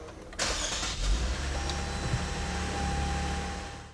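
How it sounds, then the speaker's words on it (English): A 2014 Lexus IS 250 push-button start: a brief starter whir followed by the engine catching and settling into a steady, fairly quiet idle heard from inside the car. "hold it pressed against the ignition for 2 seconds while our foot is on the brake, and that will allow us to start the car"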